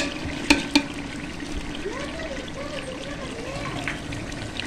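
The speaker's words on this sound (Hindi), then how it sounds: "ये देखिए हम इसमें पानी डालेंगे। तकरीबन 5 किलो पानी जाएगा इसमें।" Water poured into a large pot of softened tomatoes for Sindhi biryani, a steady trickling, bubbling stream with a couple of sharp clinks at the start, while someone speaks over it.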